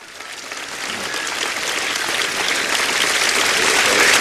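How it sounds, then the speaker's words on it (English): Capacity crowd at Center Court, Sea Pines Racket Club, applauding during a 1977 men's singles tennis final; dense, steady clapping that swells gradually louder across the whole stretch, with no distinct voices. "The applause from the capacity crowd here at Center Court, Sea Pines Racket Club"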